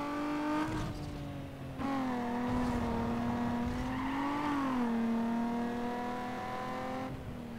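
A race car engine from the video game Need for Speed Underground 2 drones steadily and loudly, its pitch shifting through gear changes, with no talk over it.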